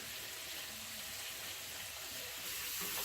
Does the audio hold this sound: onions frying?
yes